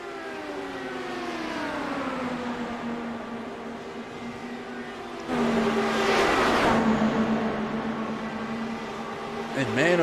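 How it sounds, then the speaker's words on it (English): IndyCar race cars in a racing video game at Michigan, a three-car pack running close, their engines producing a steady high whine that swells louder and brighter as cars pass mid-clip. "these drivers mixing it up just a little bit in this 3-car pack that we are watching right now with Ryan Bowles, Jason Lowe, and Craig Fors"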